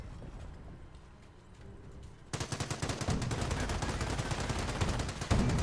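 A .30 cal machine gun in Company of Heroes fires long rapid bursts of rattling shots that start abruptly after quieter battlefield ambience and continue densely to the end, with gunfire nearby.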